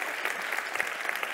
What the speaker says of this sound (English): could we give her a hand for that?